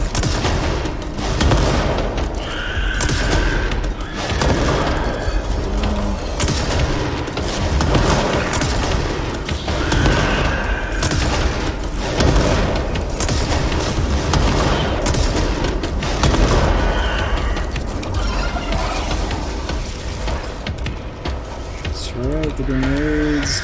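Heavy gunfire and booming blasts from grenade explosions in the video game Control, a steady barrage of bursts and thumps running throughout under a voice talking.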